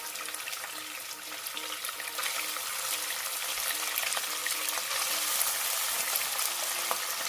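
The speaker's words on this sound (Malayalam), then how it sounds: "എണ്ണ ചൂടായിട്ടുണ്ട് അതിലേക്ക് ബീഫ് ഇട്ട് കൊടുക്കാം" Beef pieces dropped into hot sesame oil for a pickle, hissing and sizzling steadily at close range, the frying growing slightly louder and denser as it goes on, with a faint regular ticking beneath.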